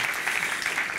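An audience at a book awards gala breaks into loud, dense applause for the evening's first winners, many hands clapping continuously and close.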